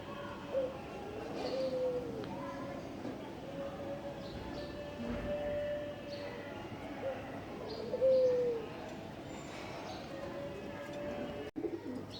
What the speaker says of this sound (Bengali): এই যে আমাদের সন্ধ্যার সময় কবুতরের খামারের দৃশ্য।